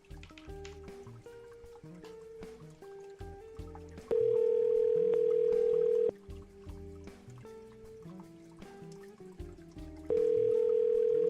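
A telephone line plays steady dial-tone bursts while placing a call-out during a live fishing show, the tones sounding loud and even for about two seconds at a time, over background music and tonal beeps.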